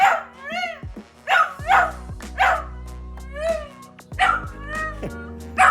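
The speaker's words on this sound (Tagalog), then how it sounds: "Ito po yung aso namin" A dog barks and yips repeatedly at close range, sharp bursts with short pauses between them, with whining mixed in.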